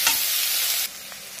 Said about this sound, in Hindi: देखिए, प्याज और शिमला मिर्च भुंजा रहा है